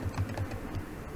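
Numbers typed on a computer keyboard while entering data into an Excel spreadsheet: a short, quick run of soft close key taps with no talk.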